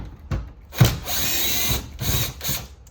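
A power tool removes a 10mm bolt from the rear hatch trim of a 4th-gen 4Runner, whirring in a few short, close bursts with brief pauses between them.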